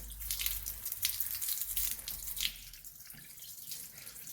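Water runs and sheets off a ceramic-coated car body in a steady close splashing hiss with a low rumble beneath it, easing slightly toward the end.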